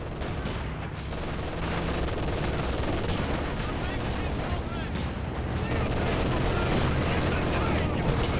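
Machine gun and Katyusha rocket fire in a war video game, a dense, continuous barrage of gunshots and booming launches running throughout at steady high loudness with no pauses.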